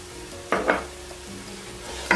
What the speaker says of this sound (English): So I'm gonna give that a stir.